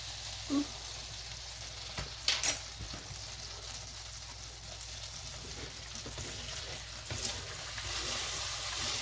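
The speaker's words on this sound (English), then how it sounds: "So I'm going to cook his eggs here. He's going to have some scrambled eggs." Scrambled eggs cook on a hot griddle set near 400 degrees, giving a quiet continuous sizzle with a few faint knocks and scrapes, slowly growing a little louder.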